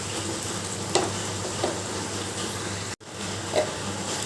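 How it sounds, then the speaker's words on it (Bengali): Paratha frying in oil in a pan gives a steady, close sizzle that runs the whole time, with a few soft stirring or turning sounds and one brief dropout. "এরপর দিয়ে দিলাম তেল তেল দিয়ে ভালো করে ভেজে নেব"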